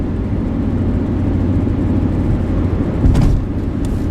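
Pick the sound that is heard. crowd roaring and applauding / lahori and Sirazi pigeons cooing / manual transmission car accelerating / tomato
manual transmission car accelerating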